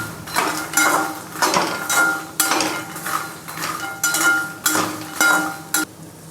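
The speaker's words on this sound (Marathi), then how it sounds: "मखाणे टाकल्यानंतर आपण त्यांना छान असं मिक्स करून घेणार आहोत।" Roasted makhana fox nuts being stirred in a pan for chiwada, a steady series of scraping, clinking spoon-on-metal strokes at a brisk, uneven rhythm, close and clear with no talking.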